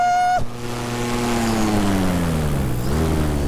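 An electric paramotor's motor and propeller run up to full power, a loud close whine whose pitch climbs and settles into a steady roaring drone with a strong propeller buzz underneath.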